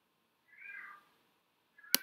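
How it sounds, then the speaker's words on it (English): A male house cat meows loudly in two bursts, a sustained wail near the start and a shorter cry at the end, sounding from another room amid otherwise quiet surroundings. "You hear my cat meowing his head off in the background there as well."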